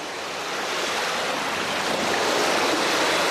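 Sea surf rolls and crashes in a dense, steady roar of breaking water that swells slightly louder toward the end, full and close with no voices.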